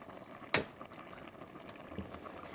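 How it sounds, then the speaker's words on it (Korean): A pot of seaweed, squid and gochujang stew with cabbage and chili peppers simmers on the stove, giving a steady low bubbling hiss with one sharp clink or knock early on, close and fairly quiet. "끓는 소리 봐."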